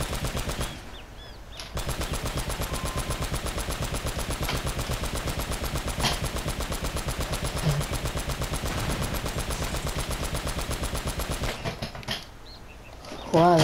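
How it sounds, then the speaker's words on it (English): Rapid automatic gunfire from a gun in the video game Uncharted rattles loud and continuous for most of the stretch, a fast unbroken stream of shots with brief quiet gaps near the start and end. "Let me shoot that gun."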